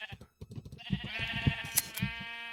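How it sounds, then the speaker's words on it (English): Repeated sheep bleats from a Minecraft wool farm, several overlapping calls in quick succession at close range, clear and fairly loud with no talking. "You're gonna hear a lot of sheep sounds from this video."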